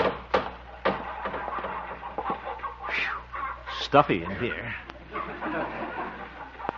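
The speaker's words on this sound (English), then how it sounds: "Hello, little hens." Hens clucking inside a henhouse in an old-time radio drama, several short clucks scattered under a man's spoken lines, moderately close.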